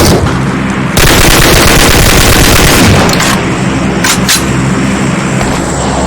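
PUBG Mobile gameplay with dense, loud automatic gunfire, sustained rapid bursts filling the whole stretch after a short lead-in, plus a couple of sharper isolated shots near the end, no voices.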